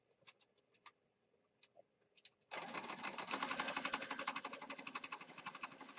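A few light taps and clicks come first, then a sewing machine starts up close and loud, stitching through a mixed media artwork with a rapid, steady mechanical whir until the end.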